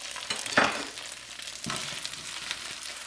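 Chicken and baby bok choy sizzle steadily in a hot pan, a broad frying hiss with a couple of louder bursts as the food is stirred, close and continuous without talk.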